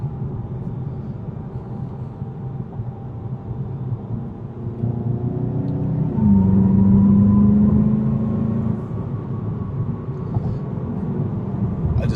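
A 2019 VW Golf GTI SE DSG drives along near a freeway, its engine a steady close rumble inside the cabin that swells as revs rise through a gear, heard alone without talk.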